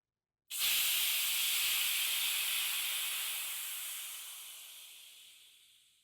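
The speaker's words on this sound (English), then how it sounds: "open the bleed valve and release the trapped pressure from under the now inactive left pressure relief valve" Pressurized gas vents from an opened bleed valve beneath an inactive pressure relief valve on an Anderson Greenwood Safety Selector vessel, a sudden loud steady hiss that starts abruptly and slowly fades over several seconds.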